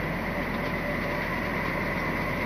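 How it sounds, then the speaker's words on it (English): A tractor engine runs steadily on a quiet rural roadside at night, a continuous broadband drone that holds at even loudness throughout with no voices. "Just the odd tractor running by."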